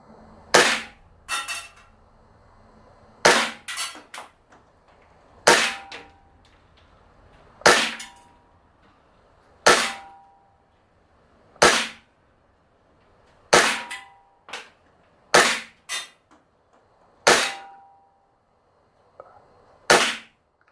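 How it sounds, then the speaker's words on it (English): Umarex Glock 17 Gen 4 gas blowback airsoft pistol firing .25 gram BBs on propane outdoors: about a dozen sharp, snappy cracks come at irregular intervals, some in quick pairs, each ringing briefly against quiet background. "Both of these guns, again, are gas blowback using propane with .25 gram Airsoft BBs."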